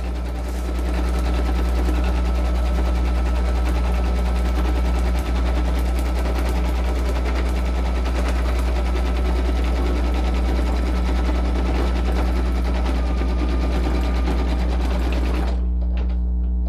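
An embroidery machine stitches an outline on fabric for a hooded towel, a loud, rapid, continuous mechanical chatter that runs unbroken and cuts off abruptly near the end.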